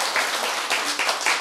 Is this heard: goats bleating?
no